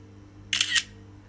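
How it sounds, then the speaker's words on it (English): An iPhone X camera shutter fires for a selfie portrait photo, a single crisp, close, double-clicked snap lasting a fraction of a second against a quiet hum. "I take a one selfie portrait here"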